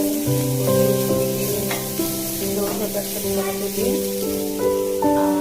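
Food sizzles steadily in a pan with occasional stirring scrapes, while tonal background sounds and faint voices play nearby.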